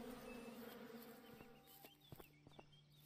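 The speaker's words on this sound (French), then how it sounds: "Ah, de l'abeille. De l'abeille." Buzzing bee in the survival western game Above Snakes, a steady drone with a few short clicks and soft game sounds around it, fairly quiet and with no talking.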